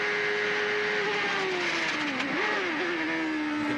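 Race car at the 1992 Mid-Ohio race screams down a long back straight at high speed, its engine pitch easing down as it brakes, heard at a moderate distance without speech.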